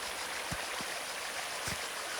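Rushing river water from a vehicle crossing a river lengthwise in Albania, a steady broadband wash with a few low thumps and knocks scattered through it, no voices.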